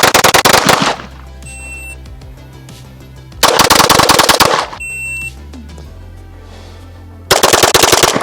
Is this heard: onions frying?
no